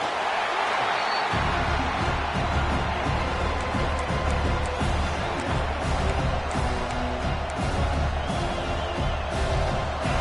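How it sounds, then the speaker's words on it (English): Stadium crowd in a football video game roars and cheers continuously, a dense, loud wash of noise that swells in after a quiet start and holds steady throughout, with no talk over it. "And this crowd coming to life here trying to help the defense get a stop"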